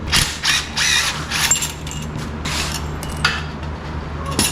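A V-band clamp comes off a motorcycle exhaust, with close metallic clicks, ratcheting and scraping in uneven bursts, loud and nearby, with no talk.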